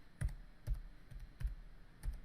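Several soft keystrokes land on a computer keyboard in irregular taps, typing a web address, close and fairly quiet against a low background hum.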